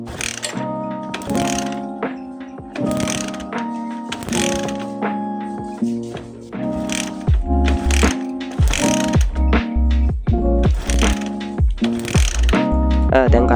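The kick starter of a Bajaj CT 100 motorcycle with its spark plug out is pumped repeatedly, producing about a dozen loud mechanical ratcheting clunks in an uneven rhythm, close by, and the engine does not catch.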